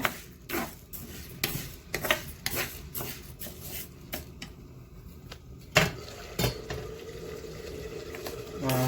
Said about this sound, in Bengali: মাংসের পাতিলের শব্দ শুনতে পাচ্ছেন আপনারা, নাইস একটা সাউন্ড